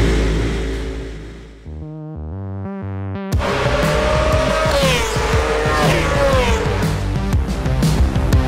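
Racing motorcycles at the Assen circuit: a high engine revs upward through stepped gear changes, then a loud sustained race-engine wail with other machines mixed in.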